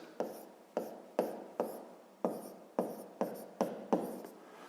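Pen or chalk writing an answer during a math lesson, nine separate sharp taps and short scratches at an uneven pace, close and clear with no voice over them.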